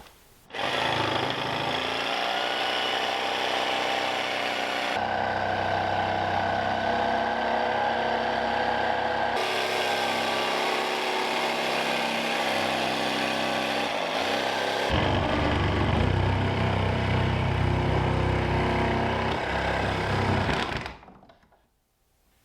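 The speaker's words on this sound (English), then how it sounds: "We'll get the jigsaw out now and cut that." A jigsaw cutting a hole in shiplap wall boards for an electrical box, a loud buzzing, rattling cut running about twenty seconds with brief shifts in tone as the blade works, close by and without talk.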